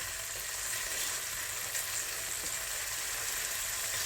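Halloumi slices frying in a pan for a peri peri burger, a steady close hiss of sizzling oil without pause.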